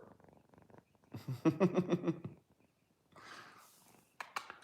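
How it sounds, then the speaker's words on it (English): A cat purring close up in rhythmic rumbling pulses, with brief quieter stretches and some rustling noise near the end. "Little kitty cat purr."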